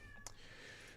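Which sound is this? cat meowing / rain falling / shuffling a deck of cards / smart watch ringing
cat meowing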